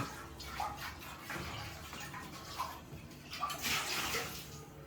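Tap water runs and splashes steadily while raw chicken is washed in a kitchen for restaurant-style chicken fried rice, a close, continuous wet rush that swells near the end.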